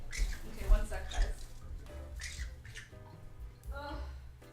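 A pet bird gives harsh squawks in a home, loud and close, mixed in with a person talking nearby.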